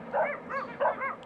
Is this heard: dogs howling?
yes